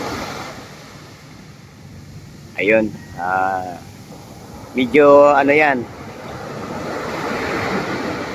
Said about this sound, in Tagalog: Medyo delikado kasi pabago-bago ang sistema ng alon.